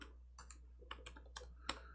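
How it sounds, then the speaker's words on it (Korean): Typing on a computer keyboard while writing a C program, with scattered individual key clicks in an uneven rhythm, faint and close over a low electrical hum, no speech. "얘도 한번 타이핑을 하면서 설명을 해 보도록 하겠습니다."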